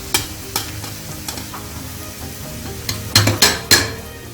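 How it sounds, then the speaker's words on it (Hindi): Onions frying in a pan with a soft sizzle beneath repeated sharp clinks and scrapes of a metal spoon stirring against the pan, louder clatter clustering near the end. "यहाँ पे हमारे प्याज अभी फ्राई हो रहे हैं"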